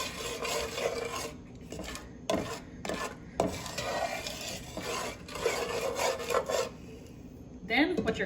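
Unpopped popcorn kernels being stirred and coated in a pot in a home kitchen, a steady rasping, rubbing scrape with short pauses and a few clinks near the end, close and moderately loud.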